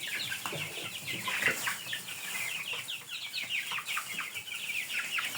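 A flock of frightened one-month-old Lohmann, Hisex and Dominant chicks gives a constant overlapping chorus of high peeping and chirping, close and fairly quiet, with light rustling underneath.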